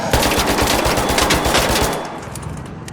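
Rapid automatic gunfire from the video game Arc Raiders bursts loud and close in a sustained stream of shots for about two seconds, then fades into ringing echoes.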